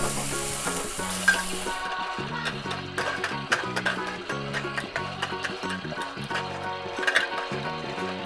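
Sizzling effect from a Paw Patrol Sizzlin' Stovetop toy, a steady crackling hiss that plays on for several seconds alongside a bright melodic toy jingle with rhythmic tones.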